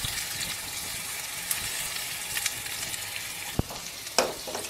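Onions cook in a pan with cinnamon, cloves, cardamom and other whole spices, a low steady sizzle broken by a few sharp clatters near the end, heard close with no talking.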